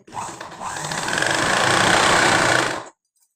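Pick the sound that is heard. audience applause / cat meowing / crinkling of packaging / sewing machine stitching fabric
sewing machine stitching fabric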